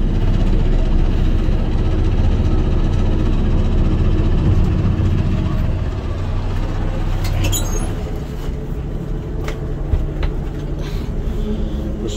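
A 1980 Ford LN700 dump truck idles up to drive its PTO and raise the bed, a steady loud diesel rumble that eases slightly partway through, with no talk.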